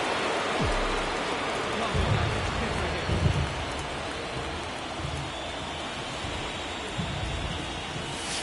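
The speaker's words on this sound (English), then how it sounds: "This rain is not letting up." Steady rain pours on a ballpark in the baseball video game MLB The Show 23, a dense even hiss that runs the whole eight seconds with a few soft low thuds beneath it.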